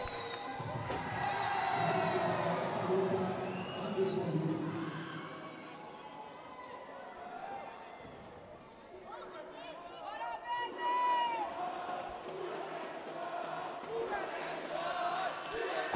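Crowd at the Fight Leste 7 combat-sports event cheering for the fighter William "Bad Boy", a steady roar of shouts and whistles under an announcer's amplified voice, surging again toward the end.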